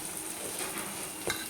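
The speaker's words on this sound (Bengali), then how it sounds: "এদিকে বরবটি ভাজা তো হয়ে গেছে।" Yardlong beans frying in a pan give off a soft, steady sizzle with faint stirring, and a brief louder scrape or clink comes near the end; no one speaks.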